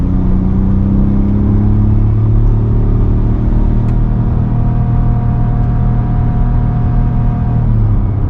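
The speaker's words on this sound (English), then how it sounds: "Now let's go ahead and get on it, getting up to speed." A 2021 Ford F-150 PowerBoost hybrid pickup accelerates while towing, a loud steady engine and road rumble that climbs in pitch as the truck gathers speed, heard from inside the cab.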